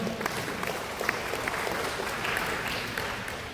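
An audience at a school program launch event in East Flores applauds, a steady wash of many hands clapping, moderately loud throughout.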